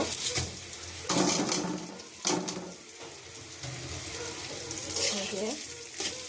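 Pilau rice frying with potatoes, bay leaves and cardamom in oil in a pan, a hissing sizzle with splashy bursts and stirring clatter, loud and close.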